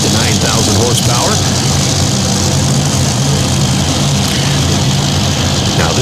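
Modified tractor pull engines of 8,000 to 9,000 horsepower rumble at a raceway nationals event in Farley, Iowa, as a loud, steady drone throughout, with a voice talking over them.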